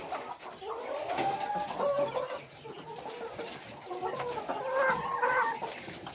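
Laying hens on a small poultry farm cluck continuously in a busy, close chorus, with overlapping calls and steady background farmyard noise and no talking.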